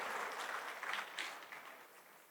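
An audience breaks into applause after a statement in a talk with a former police chief, a brief burst of clapping that swells, then fades over about two seconds.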